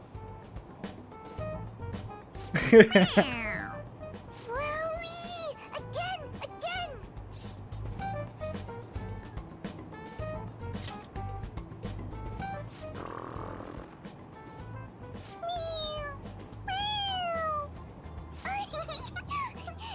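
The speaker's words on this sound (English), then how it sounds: "It meows when you press on its head." A toy cat gives squeaky electronic meows each time its head is pressed, repeating several times, mixed with excited voices and giggling.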